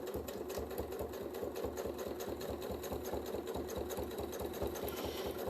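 A sewing machine runs steadily at close range while quilting with rulers, its needle stitching in a fast, even mechanical rhythm without pause.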